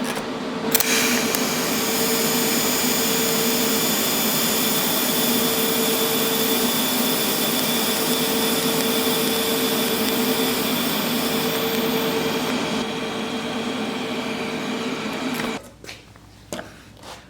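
TIG welding stainless steel to mild steel, a loud, steady buzzing hum with a constant tone that runs unbroken for about fifteen seconds, then cuts off, leaving faint handling clatter.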